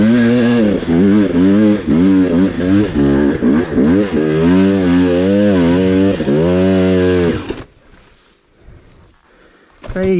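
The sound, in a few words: off-road motorcycle engine on steep terrain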